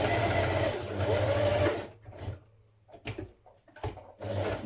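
Sewing machine zigzag stitching along the edge of knit fabric, a close, steady mechanical whirring for about two seconds, then short bursts of stitching and handling clicks before the motor runs again.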